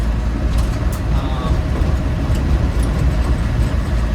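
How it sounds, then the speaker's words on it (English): A 1994 Land Rover Defender 110 with a 300Tdi diesel drives over a dirt road, with a constant rough rumble and rattling from the cabin and wood-panelled rear at speed, heard from inside. "Quite a bit of rattling coming out of the back."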